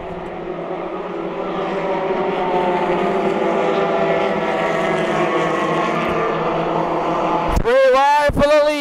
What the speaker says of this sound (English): they're squealing around the corner